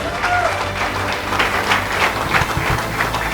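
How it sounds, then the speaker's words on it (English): An audience applauds national sports awardees at a college sports award ceremony, a steady, fairly loud spread of clapping with a hum of crowd noise underneath. "Please give them a big round of applause."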